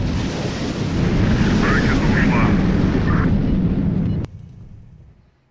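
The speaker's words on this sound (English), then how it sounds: "Okay, let's send more missiles." Missiles launched in the naval strategy game HighFleet make a loud, sustained roaring rush, like a rocket burn, that holds steady for about four seconds, then cuts off abruptly into a fading low rumble.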